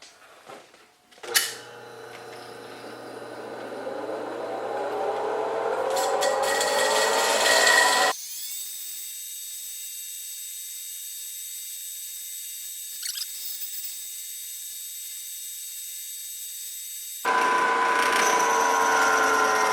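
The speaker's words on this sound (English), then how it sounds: "And we're going to grind that off." A marble being ground on a shaping machine, with an abrasive rasping whir that rises in intensity, then a steady high-pitched machine whine that continues, close and loud with no talking.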